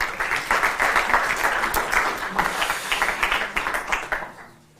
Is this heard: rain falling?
no